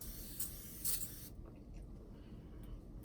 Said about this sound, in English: I spray my face with some type of spray.